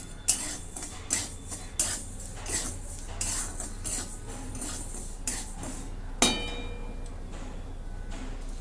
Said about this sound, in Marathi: आधी मीठ गरम करून घेते त्याच्या म्हणजे गाठी वगैरे काय आहेत ते फोडून घेते